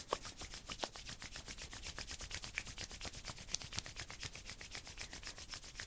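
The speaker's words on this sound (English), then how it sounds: "Rub the hands together." Palms rubbed briskly together during a gentle yoga flow, a quiet, close, fast and even rhythm of soft swishing strokes, about four per second, with no voices.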